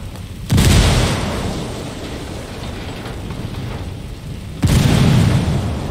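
Two heavy frag grenade explosions in Ghost Recon Wildlands, one at the start and one near the end, each a loud close boom with a long rumbling tail, with steady background noise between them.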